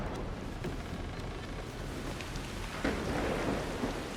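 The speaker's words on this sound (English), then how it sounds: "We got some pouring rain." Heavy rain pours steadily in the video game Assassin's Creed Shadows, a dense broadband wash with faint rumbles and a slight swell near the end, heard alone without voices.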